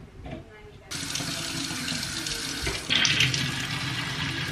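Tap water runs into a plastic filter jug, starting quiet then bursting into a steady splashing hiss that grows louder near the end, with faint talk early on.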